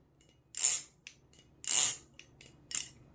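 A balisong butterfly knife, fitted with replacement T8 screws, flipped in a few quick bursts of bright metallic clicking and scraping, three main clusters separated by short pauses, close and fairly quiet.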